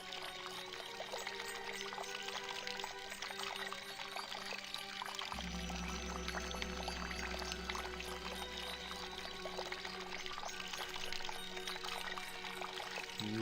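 Water pouring steadily from a canteen filled from the Fountain of Youth in the game Discworld II, a continuous trickling splash under a soft ambient background, with a deeper gush starting partway through.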